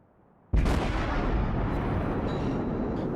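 A warship's naval guns fire armor-piercing shells in a naval combat video game, one sudden, very loud boom followed by a long rumbling roar that fades slowly, heard alone.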